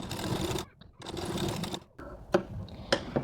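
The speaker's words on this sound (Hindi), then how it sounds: "अब इसको बाहर की तरफ करके एक सिलाई इसके ऊपर भी लगा देंगे हम लोग।" Sewing machine stitching blouse fabric in close bursts of rapid mechanical whirring, two longer runs followed by shorter stop-start stitching with clicks, no talk.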